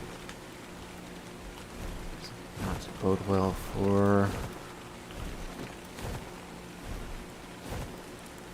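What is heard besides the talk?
rain in the video game ARK: Survival Evolved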